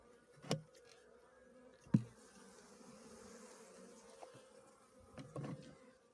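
Honey bees hum faintly around a strong hive at an apiary, a low steady drone punctuated by a few louder buzzing passes close by.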